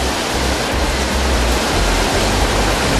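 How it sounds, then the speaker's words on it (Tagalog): Floodwater of the swollen Salayak river in Dinalupihan, Bataan, rushing in a strong current after heavy rain, a loud continuous broadband roar with no pauses. "Malakas pa rin ang agos ng tubig mula sa ilog Salayak sa Dinalupihan, Bataan kaninang madaling araw."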